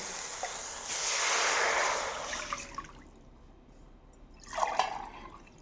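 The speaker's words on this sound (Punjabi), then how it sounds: "ਇੱਕ ਲੀਟਰ ਆਪਾਂ ਜਿਹੜਾ ਚਾਸ਼ਨੀ ਵਾਸਤੇ ਉਹ ਪਾਣੀ ਪਾਵਾਂਗੇ" Water is poured into a pot to make sugar syrup for semolina laddoos, a soft splashing rush lasting a couple of seconds, then a quieter pause and a second brief pour.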